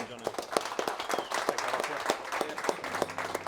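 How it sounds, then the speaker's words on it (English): A round of clapping breaks out at a London Christmas party, individual sharp claps standing out amid a light crowd, with people talking underneath. "Round of applause"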